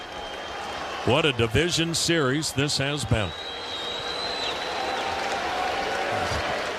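A sellout crowd of 34,105 at ALDS Game 5 between the Detroit Tigers and Cleveland Guardians keeps up a broad, steady roar beneath a male announcer's commentary, then carries on alone as a sustained distant wash.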